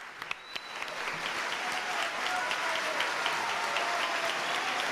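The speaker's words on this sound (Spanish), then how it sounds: "Aplauso por el trabajo realizado en la recientemente clausurada revista Cambio." Audience applause, a steady wash of many hands clapping at moderate distance for several seconds, with no voices standing out.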